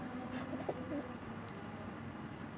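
Pigeons cooing softly at a village watering spot, a few low, brief coos early on over steady outdoor background noise, fairly distant.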